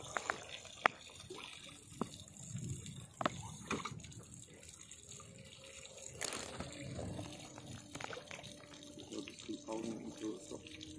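Water gurgling and splashing out of a hole in a kayak, close and fairly quiet, with irregular drips, trickles and a brief gush, plus soft background voices.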